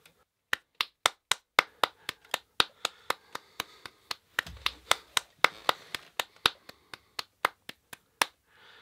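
One person claps steadily for several seconds, a regular run of about thirty crisp, close hand claps with a slightly busier stretch in the middle.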